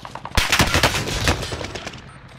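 Loud rapid automatic gunfire in Call of Duty Warzone on Rebirth Island, a dense burst of close shots that rattles for a couple of seconds and then trails off.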